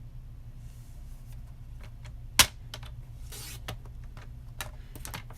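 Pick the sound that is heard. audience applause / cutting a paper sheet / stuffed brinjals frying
cutting a paper sheet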